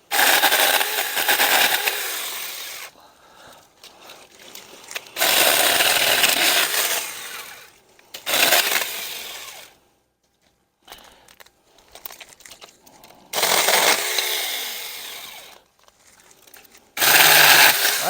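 A SmartSaker Saker 4-inch 20V battery mini chainsaw cuts into dry, dead wood outdoors with repeated loud, buzzing bursts of cutting lasting a few seconds each, separated by quiet gaps.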